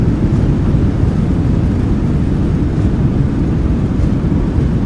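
In a flight simulator, an airliner's thrust reversers deploy on landing, giving a dense, steady, low roar that holds at constant loudness throughout.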